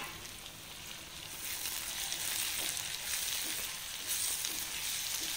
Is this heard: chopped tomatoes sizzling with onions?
yes